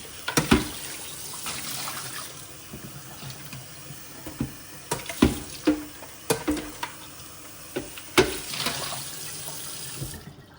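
Tap water runs and splashes into a Thermomix TM7 mixing bowl as it is rinsed at the sink, a steady close wash broken by louder clunks and sloshes of the bowl being handled, ending abruptly.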